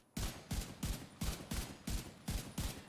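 M1A rifle in The Division 2 firing a steady string of eight sharp, booming shots about every third of a second, loud and close with no voices over them.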